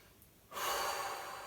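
A forceful breath during a hatha yoga flow, a sudden airy rush of air that starts abruptly and holds steady for about a second, close and fairly quiet, with no talking.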